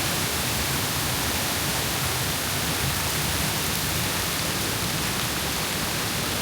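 A waterfall near the Ubud rice terraces in Bali pours in a dense, steady rush of broadband white noise, close and constant with no pauses and no voices.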